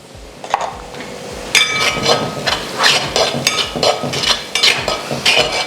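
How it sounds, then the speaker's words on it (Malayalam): Masala for a cobia fish curry being roasted in a pan, with a soft sizzle under repeated clinking and scraping strokes of a spoon stirring at a steady rhythm, close and fairly loud. "ഇനി ഒന്ന് നമ്മുടെ മസാല നല്ല രീതിയിലൊന്ന് മൂപ്പിച്ചെടുക്കാം"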